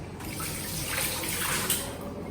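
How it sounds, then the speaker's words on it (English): Water runs from a tap while hands are washed under it in a home kitchen, a soft, steady splashing stream with faint swells, fairly quiet and close by. "just wash my hands"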